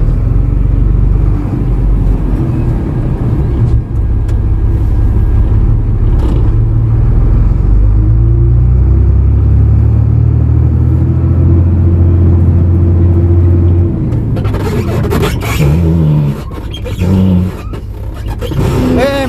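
A dump truck rolling downhill with its exhaust brake engaged gives a loud, sustained engine drone and rumble, with scraping and clattering bursts near the end.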